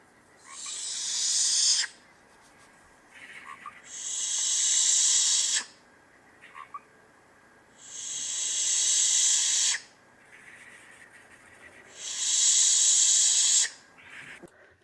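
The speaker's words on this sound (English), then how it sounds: "It's a hissing owl." A barn owl (Tyto alba) hisses four times: long, harsh, breathy hisses, each lasting about two seconds, separated by short pauses, loud and close with no talking.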